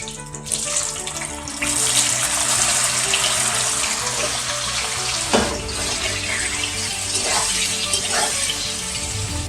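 Paneer fries in hot salted oil with a dense, continuous hiss and sizzle, close and steady throughout, with occasional soft pops and no voices.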